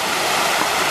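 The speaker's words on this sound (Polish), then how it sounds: "tutaj mamy mały wodospad" A small waterfall beside a private pool on Bali gives off a loud, unbroken rush of splashing water that is close and fills the whole moment.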